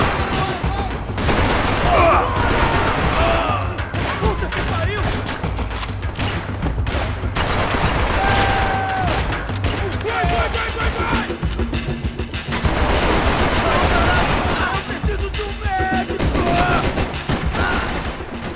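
Dense bursts of gunfire from the video game Max Payne 3 crackle almost continuously in rapid, loud volleys mixed with crashes and booms, with a voice talking in places underneath.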